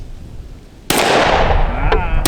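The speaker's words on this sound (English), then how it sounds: "let's just go ahead and throw these rounds down range too while we're at it" A single loud gunshot from a Smith and Wesson M&P Compact pistol at a shooting range, sharp and close with a long decaying tail, followed by two brief sharp clicks or pops.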